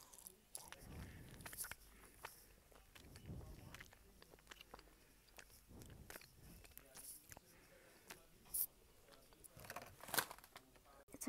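Someone chews a Trolli gummy burger candy up close, with soft sticky bites and squishy chewing spread through the quiet stretch and a few sharper crunchy peaks.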